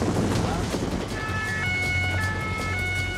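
A gendarmerie patrol boat's siren on the Mediterranean off Marseille wails in steady two-tone pulses over loud engine and water rumble, coming in partway through and continuing to the end.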